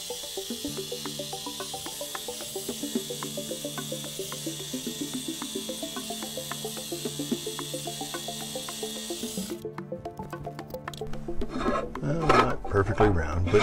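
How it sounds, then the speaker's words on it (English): A drawn circle being cut out of a wooden blank for wood turning gives a steady, rhythmic rasping, close and even, that grows louder and coarser over the last few seconds. "And I'm gonna cut it out now."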